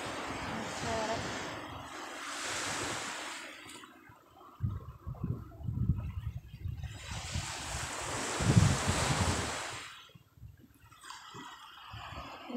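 Sea waves on a quiet, empty shore swell and wash in two long surges, mixed with gusting wind buffeting the microphone, with quieter lulls between them.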